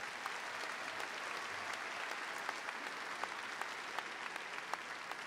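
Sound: applause for graduation staff

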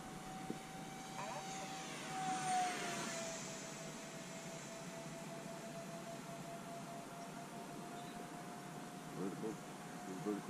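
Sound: 3D printed twin 40mm EDF F-15 model jet flying

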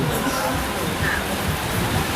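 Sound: heavy rain during a football match

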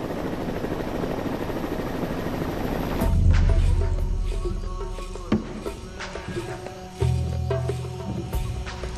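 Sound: helicopter flying overhead, film sound effect

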